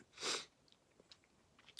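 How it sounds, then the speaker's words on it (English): A single sudden sneeze bursts out near the start, loud and close, followed by quiet small rustles and faint sniffing noises. "I'm sneezing all of a sudden."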